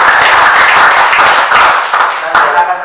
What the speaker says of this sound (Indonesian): Tepuk tangan untuk Anda semuanya kalau bisa begitu.